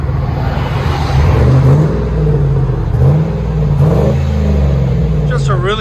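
Ford F-150 with a 4.6L V8 and Flowmaster Super HP2 exhaust, idling with a deep, steady rumble that swells slightly at moments, heard up close with a voice talking over it.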